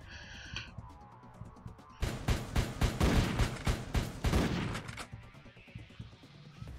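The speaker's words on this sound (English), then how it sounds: "shotgun was a good idea" Shotgun blasts in the Entry Point video game, a rapid loud string of about a dozen heavy booming shots over three seconds, after a short electronic tone, then a quieter tail of ambience.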